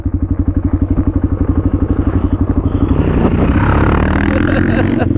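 Dual-sport motorcycle with its front wheel stuck in a soft ditch on an off-road trail: a loud, close engine chugging in rapid pulses, then revving harder into a rough, continuous roar.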